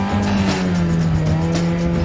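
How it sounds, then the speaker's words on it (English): Engine of a homemade hill climber vehicle revving hard and steady on a hill, a loud, continuous droning roar that holds its pitch for a couple of seconds. "He's trying to get those engine revs up."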